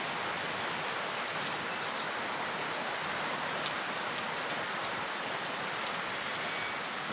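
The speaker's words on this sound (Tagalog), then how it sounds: "Kung naririnig nyo, medyo malakas ang patak ng ulan." Heavy rain falls steadily on a house, a dense, even hiss of drops on surfaces with no breaks and no voices.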